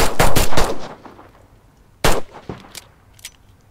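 Loud bursts of automatic fire from an MG42 machine gun in a video game: a rapid rattling volley, a short pause, then another quick burst followed by scattered clanks, with no talking.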